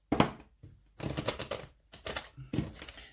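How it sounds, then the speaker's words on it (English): Tarot cards are shuffled in quick riffling bursts, close and crisp, in several short runs separated by brief pauses. "We'll give them another shuffle and then see what else they've got to say."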